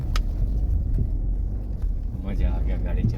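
A car driving over a rough off-road track, with a steady low engine rumble, jolts and knocks from the bumpy surface, and voices talking briefly over the noise.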